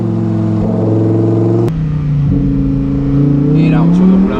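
A car engine held near 3000 rpm with a valve module controller on the exhaust, a loud, steady droning hum that shifts pitch slightly and then climbs, with people talking over it.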